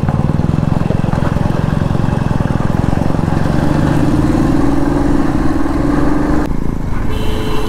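Motorcycle ridden on an open road on a weekend trip, a loud close engine drone with a steady rapid pulse and rushing wind, the pitch shifting slightly as the bike changes speed.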